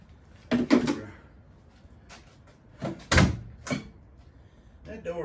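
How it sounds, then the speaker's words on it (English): A 1966 Ford's door being worked on during a body swap clanks and thumps in a few sharp, close bursts, with metallic rattles between quieter pauses, and a voice speaks nearby. "That door's getting problematic."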